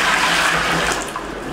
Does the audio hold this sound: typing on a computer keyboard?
no